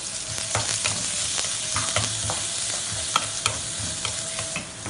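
Onions sizzle steadily in hot oil with mustard seeds, urad dal and dried chillies, while a spoon scrapes and stirs the pan in a rhythm of soft knocks.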